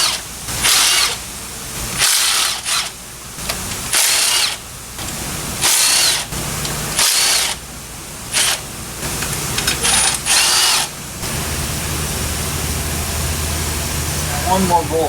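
A power tool whirs in loud repeated bursts while removing bolts from the engine of an Infiniti QX56 in a workshop, with pauses between runs and a person speaking over it.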